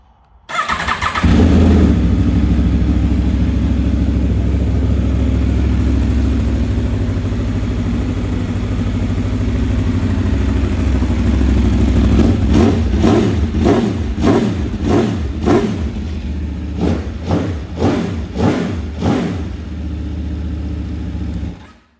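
An Aprilia Tuono V4 Factory motorcycle with an aftermarket exhaust fires up and settles into a loud, close idle, then takes a series of sharp throttle blips.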